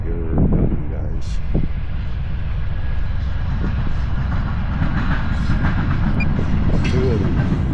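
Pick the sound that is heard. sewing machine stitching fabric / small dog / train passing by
train passing by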